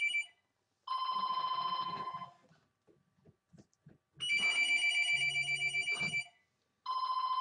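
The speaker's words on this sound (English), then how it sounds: "I got a telephone ringing" A telephone bell rings in loud, close bursts of rapid trilling, three separate rings with quiet gaps between them that hold only faint knocks and rustles.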